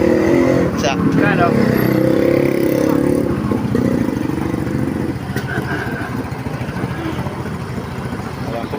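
A motorcycle engine runs steadily throughout, riding downhill through the town of Cardona, Rizal, with a rider talking loudly over the continuous motor drone.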